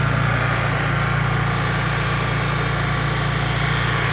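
Honda EU inverter generator running steadily, a constant close engine drone with a low hum beneath, unbroken for the whole stretch with no talking.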